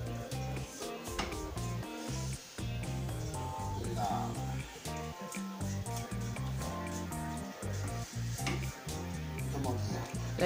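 A spatula stirs a yeast mixture in a bowl, giving continuous close scraping and clinking with soft wet swishes throughout, no talk over it.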